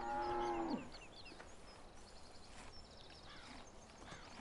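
A cow in a farming video game gives one loud, drawn-out moo at the start, followed by quieter game ambience with faint background sounds.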